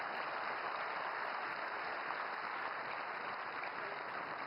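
Sustained applause from a conference audience at a science, technology and innovation gathering, a dense steady clatter of many hands clapping at even loudness throughout, with no speech over it.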